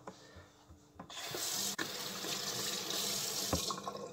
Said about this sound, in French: on se lave les mains.